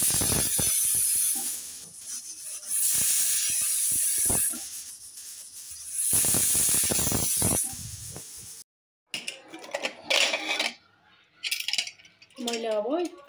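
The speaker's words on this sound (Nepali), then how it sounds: "अब यसलाई कभर गरेर 8 देखि 10 सिटीसम्म लगाउने।" Pressure cooker cooking mutton leg curry, giving out loud, sustained bursts of hissing steam in repeated waves, then a break and scattered clattering kitchen sounds near the end.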